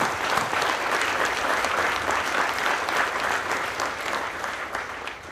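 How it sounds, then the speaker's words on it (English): An audience at an Eighth Army change of command ceremony applauds, a dense, steady round of clapping that holds at full strength for several seconds before easing slightly at the end. "Please join me in a round of applause for our families."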